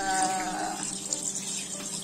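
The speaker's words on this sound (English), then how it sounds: "Add water." Water pours steadily from a tap into a cooking pot, a continuous splashing rush that softens slightly toward the end, with no talking.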